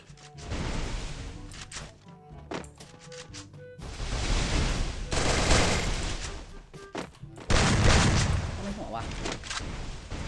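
Gunfire in the Free Fire mobile shooting game, bursts of loud close shots and rapid volleys separated by brief pauses, with a player talking over parts of it.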